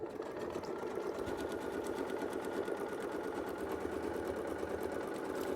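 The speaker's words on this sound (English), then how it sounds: "we're going to sew more than one time around, so that is going to be stitched in really quickly" Close and steady, a sewing machine hums and rattles without pause as it runs rapid stitches on quilt squares, with no talking.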